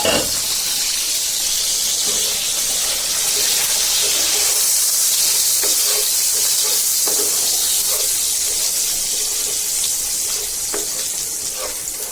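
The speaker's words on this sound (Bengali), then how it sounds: "রসুন তেলে ভেজে নিচ্ছি।" Garlic and chilies fry in hot oil, giving a loud, steady sizzle with occasional soft stirring clicks throughout.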